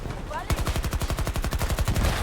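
Automatic gunfire in the video game Battlefield 2042: after a short quiet start, a fast, steady stream of loud, close rounds rattles on without a break.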